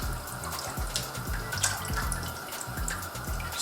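A milk mixture for homemade yoghurt pours steadily through a sieve, making a continuous splashing, trickling stream with small drips, fairly loud and close, and no talking.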